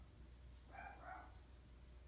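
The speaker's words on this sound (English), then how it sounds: "You're probably going to hear puppies again today because we love dogs here." Puppies barking indoors during a home crochet session, a short cluster of faint yips and barks in the middle, distant and quiet over low room hum.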